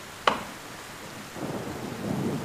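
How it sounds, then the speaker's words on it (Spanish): Heavy rain at night, a soft steady hiss that swells slightly toward the end, with a sharp sudden crack near the start. "Llueve mucho."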